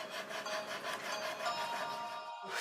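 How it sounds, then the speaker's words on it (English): Waterproof sandpaper wet-sanding a piece of ancient bogwood in a Japanese craft workshop, faint close-up rhythmic rasping strokes repeating back and forth, with no talk over them. "By wetting the surface while sanding, it's easier to sand without wood dust accumulating."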